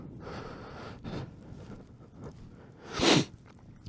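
Heavy breathing right against a close microphone during a cold motorcycle ride, with soft rustles and one loud, sharp exhale or snort near the end; no talking.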